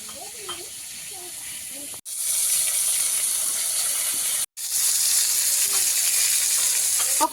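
Fish fries in a pan over a clay stove, with onion and green chili in the kitchen, giving a loud, steady, close sizzle that briefly cuts out twice; faint voices are audible at the start.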